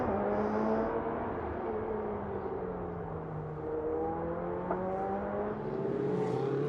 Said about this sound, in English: The Hublot safety car that we are on board with.